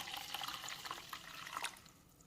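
About one and a half glasses of water are poured into a container of soaking ingredients for a hair-care preparation. A faint, continuous trickle and splash runs for a couple of seconds.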